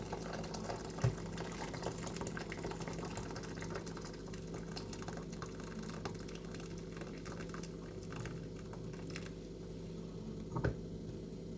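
A litre of boiling water pours into a bowl while coconut milk is being made. It gives a steady, moderately quiet wash of pouring and splashing that lasts throughout, with no voices.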